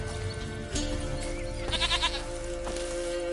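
A goat in the video game The Witcher 3 bleats once in a short wavering cry, mid-level and close, over a steady game ambience with low tones, no talking.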